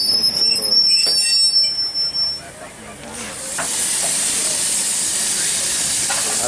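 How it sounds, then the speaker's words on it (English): An LNER train arriving from London King's Cross squeals and hisses, with high wheel screech early, then a broad steady hiss as it comes in, with voices faintly present. "in the distance is the 1706 arrival LNER from London King's Cross"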